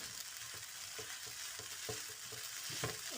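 Chilli garlic egg noodles tossed in a pan with two spoons, with steady sizzling under a run of light, regular scrapes and taps from the spoons.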